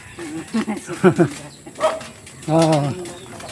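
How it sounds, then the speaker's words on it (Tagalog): A dog barks a few times in short bursts amid people talking, with a whimpering, yelping quality to some calls. "kinakahulan siya ng aso"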